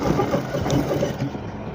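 A sewing machine runs a steady stitch through Isiagu fabric, joining the back panel to the back piece. It makes a continuous, close mechanical whir with a fine rhythmic texture and no talk.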